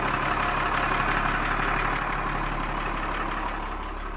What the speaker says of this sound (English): Let's put it in gear and see what it does.